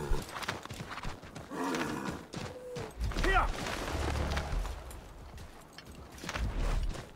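Horse in the video game Assassin's Creed 3, with clip-clop hoofbeats and a brief whinny mixed with game sounds and a voice talking over it.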